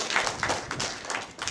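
An audience claps briefly at a talk on loving kindness, a short burst of soft, fairly distant clapping, the claps overlapping.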